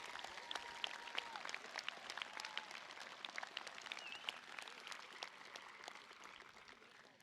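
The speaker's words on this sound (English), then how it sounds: "Let's give these people a great round of applause." Audience applause at a high school event, a sustained wash of many hands clapping at moderate distance for several seconds.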